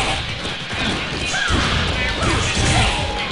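Viper's Thunder Knuckle special attack lands in a Street Fighter IV tournament match, a loud smashing crash with whooshing impact hits over steady crowd noise and game audio.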